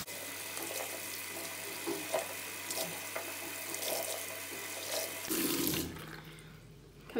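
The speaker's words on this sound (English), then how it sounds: "So then we rinse." Running tap water streams steadily into a sink while doll hair is rinsed under it, a close, continuous splashing wash that shifts in tone near the end as the flow is moved.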